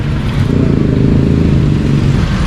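A motorcycle engine started on a roadside after a jammed chain was repaired, idling with a steady, close, rough low rumble and some mechanical clatter throughout.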